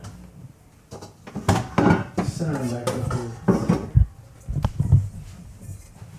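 A clean bowl picked up and handled in a kitchen, with several light knocks and clatters of dishware while someone talks over it nearby.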